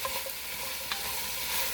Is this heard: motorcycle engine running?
no